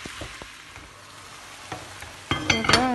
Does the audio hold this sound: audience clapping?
no